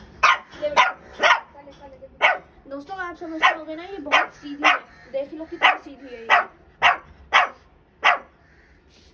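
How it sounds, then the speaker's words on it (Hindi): A female dog barks repeatedly in sharp, loud bursts in Chandni Chowk, Delhi, mixed with a few whiny yelps, while a person talks over and between the barks. "तुम क्यों भौंक रही हो?"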